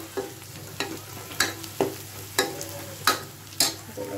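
Chopped garlic frying with onions in a pan for Uttarakhand gahat dal, with a soft sizzle underneath and regular spoon-stirring scrapes about every half second, close up and with no talking.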